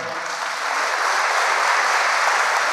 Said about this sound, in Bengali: জোরে তালি বাজাও, জোরে তালি বাজাও।